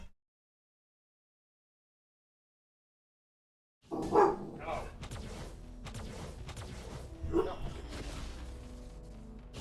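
A dog barks indoors in two loud bursts, around four seconds and again near seven seconds, over steady background game audio after a stretch of silence.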